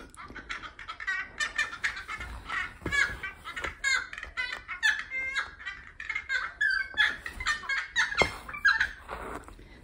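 A noisy friarbird calls outdoors, a busy run of harsh, squeaky, cackling notes that goes on throughout, fairly close and loud.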